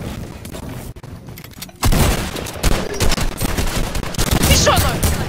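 Video game gunfire in a duos match, loud and continuous with dense bursts of shots and booms thickening midway through the clip, with faint voices beneath.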